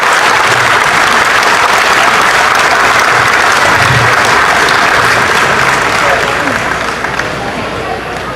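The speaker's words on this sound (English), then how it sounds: "Let's give them a big round of applause." Audience in a county fair show ring claps for the young exhibitors, a loud, dense round of applause close to the microphone that sustains and eases only slightly near the end.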